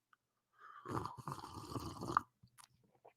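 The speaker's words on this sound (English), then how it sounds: "I really leaned into the slurp on that one" A person makes one loud, drawn-out wet slurping and sucking sound close to the microphone, followed by a few softer mouth clicks in an otherwise quiet room.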